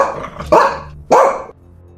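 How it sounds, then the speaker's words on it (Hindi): A large dog in a Hindi cartoon barks twice, loud and close, two separate sharp woofs with a short gap between them and no talk. "तभी अचानक गांव में एक बड़ा कुत्ता आ गया और नंदू के पैरों के पास आकर भौंका।"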